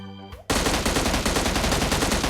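M16 rifle on full auto in PUBG Mobile: after a brief quiet moment, a loud, rapid continuous burst of gunfire with evenly spaced shots runs to the end.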